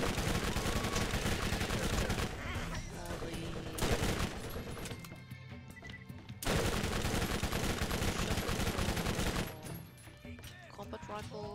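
A combat rifle fires in Borderlands, sustained loud rattling bursts of game gunfire broken by a couple of brief pauses, with speech partly underneath.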